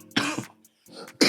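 A person coughs a few times in short, harsh bursts, with a brief pause and then a sharper burst at the end, close and fairly loud.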